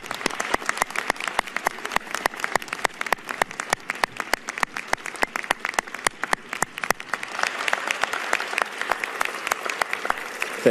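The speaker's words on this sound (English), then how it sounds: "If you'll all stand and give the round of applause to all who've supported you in this endeavor." An audience at a 2019 medical school commencement applauds on their feet, dense sustained clapping from a large crowd that runs steadily for about ten seconds with slight swells, no voices over it.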